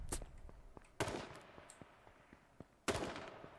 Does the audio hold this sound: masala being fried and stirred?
no